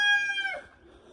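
A chicken on a farm gives a single short, harmonic crowing call, close and fairly loud, fading out within about half a second into quiet outdoor background.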